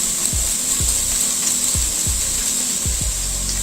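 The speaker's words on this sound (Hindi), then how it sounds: "मैं इसमें अदरक को लहसुन को कर रही हूँ ग्राइंड।" A small electric grinder whirs as it blends ginger and garlic, a loud steady motor hum broken by repeated knocking thumps as the contents tumble, with no talking.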